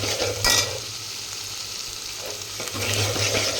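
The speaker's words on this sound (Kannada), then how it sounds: "ಈಗ ಉಳ್ಳಾಗಡ್ಡಿ ಫ್ರೈ ಆಗತೈತ್ರಿ" Onions fry in a pan for a mutton gravy, a loud steady sizzle up close, with spatula scrapes and stirring bursts at the start and near the end.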